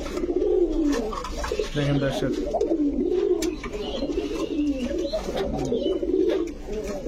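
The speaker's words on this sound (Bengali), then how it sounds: "গোবিন্দ কাকা এরকম ভক ভক করে ভ্রুর করে একটা ডাক দেয়।" A breeding pair of Gobinda Kaka pigeons at a pigeon shop coo repeatedly in low, throaty rolling calls, close and continuous, while someone talks over them.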